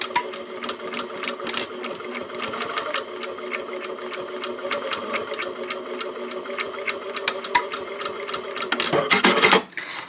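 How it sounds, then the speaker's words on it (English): A sewing machine runs steadily, stitching a quarter-inch seam with a 2.5 stitch length on a small fabric tissue case holder, its rapid needle clatter continuous and close, with a brief louder burst near the end, likely the backstitch. "I'm going to sew that first seam,"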